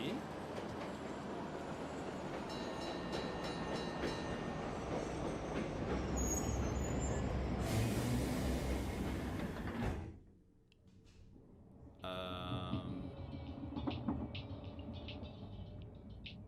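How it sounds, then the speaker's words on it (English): Train rumbling with clattering wheels and mechanical squeals in a Nintendo Direct video game trailer, a loud continuous roll that cuts out briefly near the end before resuming with sharp metallic clicks, while someone talks over it. "Alright, they're on the train."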